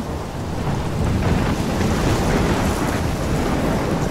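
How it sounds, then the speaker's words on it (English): A thunderstorm at sea in the game Life Is Strange, with loud continuous roaring surf and wind that swells after the first second and rumbles on without break, no voices. "I'm trapped in a storm?"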